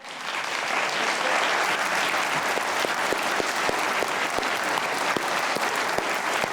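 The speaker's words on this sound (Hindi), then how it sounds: "आप बजाइए अच्छी तालियां।" Dense, steady studio-audience applause fills the room at the taping of the comedy show Hasna Mana Hai, many hands clapping at once with a few sharper individual claps, holding strong for about six and a half seconds with no speech.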